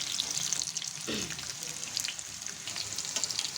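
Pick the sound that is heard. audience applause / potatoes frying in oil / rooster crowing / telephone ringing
potatoes frying in oil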